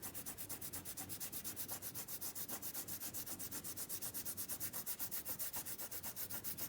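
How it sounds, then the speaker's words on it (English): A finger rubs dried masking fluid off watercolor paper in fast, even back-and-forth strokes, a close, steady rasping that stays level throughout with no talk. "So now I can rub off all of this masking fluid."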